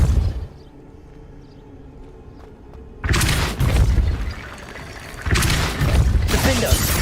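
Depulso force-blast spell in the Hogwarts Legacy video game, two heavy booming impacts with crashing debris, each bursting loudly out of a quieter rumbling background and lingering briefly.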